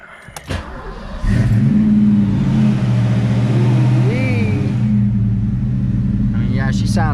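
An 1987 Ford Mustang 5.0 V8 starts up and settles into a loud, steady idle with slight revving, close by, with a few brief clunks before the engine catches.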